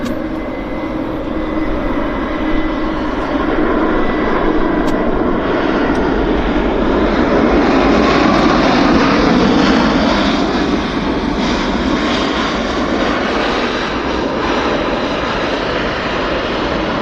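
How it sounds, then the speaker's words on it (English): A steady, loud roar from an aircraft engine comes from a plane arriving at Vancouver Airport in the evening, holding constant and close throughout. "Yeah, we've got another aircraft"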